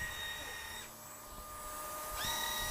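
A Panasonic MC-BL480 vacuum cleaner runs with its brush on, a steady close motor whine with a high tonal hum that dips briefly and then rises again. No one speaks over it.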